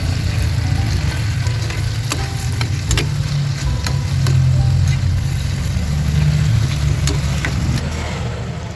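Onions, chili and marinade fry steadily with chicken liver in a pan, a loud continuous sizzle with light stirring taps and scrapes throughout, no talking.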